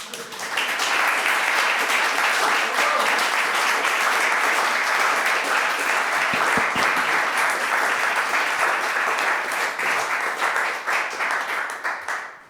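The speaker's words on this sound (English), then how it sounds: "if you agree with me, give this young gentleman an applause" A large audience applauds a young speaker at an event on dollar dominance and euro ambitions, dense continuous clapping that swells quickly and holds loud and even before tapering at the end.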